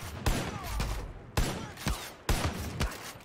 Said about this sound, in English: Oh, somebody's shooting at us.